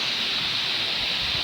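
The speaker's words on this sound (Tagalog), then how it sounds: "Ang gandang falls mga idol. Ayan mga idol, ang ganda." A tall waterfall at Libertad roars as a steady, loud wash of broadband rushing water, with wind buffeting close by and no pauses.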